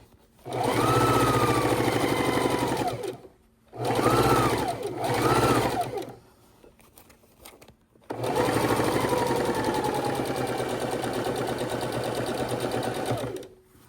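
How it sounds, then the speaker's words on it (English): Sewing machine running in three bursts while stitching a quilt seam from jelly roll strips, the motor whirring up and slowing with needle down between runs, close and loud with no talking. "if you have the option on your sewing machine, make sure you do needle down"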